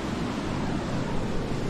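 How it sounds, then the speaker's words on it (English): A mountain river in the Swiss Alps rushes steadily nearby, a dense, even roar of flowing water with no pauses and no voices. "And then we got a river right there."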